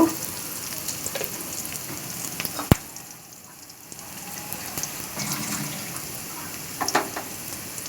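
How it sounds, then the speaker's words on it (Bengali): Onion, nigella seeds and green chilies frying in oil in a pan, giving a steady soft sizzle with a few faint scrapes and knocks, quieting briefly before the crackle returns. "আমি প্যানে তেল দিয়েছি ফোড়নে দিয়েছি কালি জিরা আর কিছু কাঁচামরিচ আর পেঁয়াজ একটু হালকা করে ভেজে নিব"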